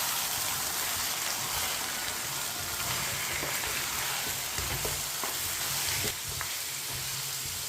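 Chunks of beef for karahi sizzle steadily in a hot pan while a spoon stirs through them, a dense, continuous frying hiss close up with no talking.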